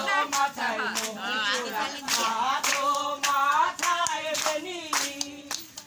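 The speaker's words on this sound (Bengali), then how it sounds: "এ হাততালি দিতা" Rhythmic hand clapping keeps time with a sung devotional Bengali kirtan about Radha and Shyam, steady claps running beneath the melodic singing voices throughout.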